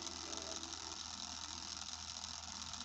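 A malfunctioning PlayStation 4 controller gives off a steady, fast mechanical rattle with a ratchet-like buzz, continuous and fairly faint throughout, with no talking.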